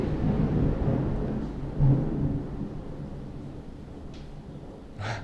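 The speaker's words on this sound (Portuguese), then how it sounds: "Muitos trovões hoje." Low, rolling thunder rumbles through the first two seconds with a brief swell near two seconds, then fades to a softer distant grumble, heard alone without talk.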